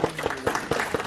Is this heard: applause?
yes